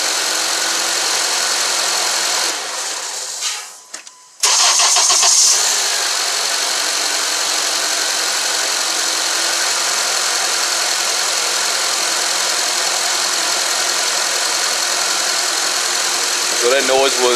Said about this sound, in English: It's gonna be the first startup with a new belt and new oil.